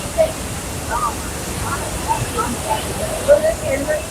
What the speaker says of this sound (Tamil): எவ்வளோ ஃபோர்ஸ் தண்ணி பயங்கரமா இருக்கு